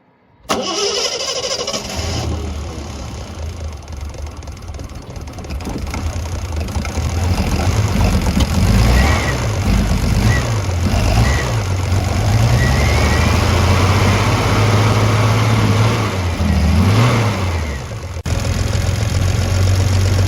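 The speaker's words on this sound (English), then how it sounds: "let's start the engine and see if we can maintain that" A Triumph TR6 engine with Bosch mechanical fuel injection cranks and catches, then settles into a loud, steady idle with a few small wavers in pitch, close by.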